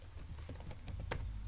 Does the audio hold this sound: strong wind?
no